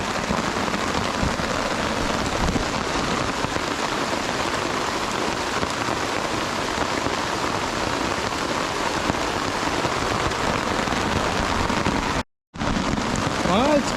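Heavy rain pours onto a camping tarp, a loud, continuous hiss of dense drops close overhead, broken only by a momentary cut near the end.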